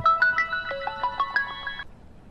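A melodic electronic ringtone plays a quick repeating pattern of bright tones for about two seconds, then stops abruptly, leaving quiet room noise.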